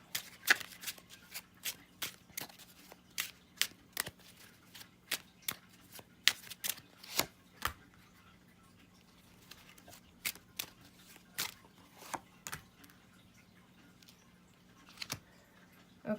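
Tarot cards being shuffled and drawn by hand, a steady run of crisp flicks and riffles, close and quiet with short pauses between bursts, and no talking.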